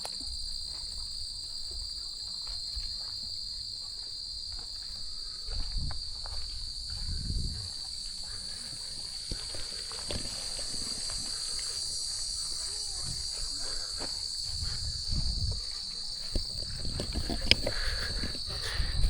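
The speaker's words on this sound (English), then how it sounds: "Just listen to the sound of the wildlife and the insects in these very, very humid" Crickets and other insects in a humid nature park on Les Îles de Boucherville, Quebec, keep up a steady, high continuous chirring drone, with occasional soft low thumps like footsteps beneath it.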